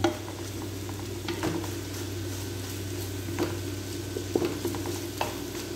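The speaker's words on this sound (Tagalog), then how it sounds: "ginigisa ko na siya" Food sizzles steadily in a hot frying pan as it is sautéed, under a constant low hum. A few light clinks and stirring scrapes of a utensil against the pan are scattered through it.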